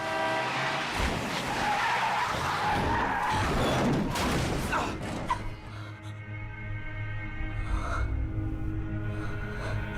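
Car tires skidding and screeching in a dramatic movie scene as a vehicle nearly hits a young woman, a loud sustained squeal with crashing noise, then settling into a lower rumble with background sound.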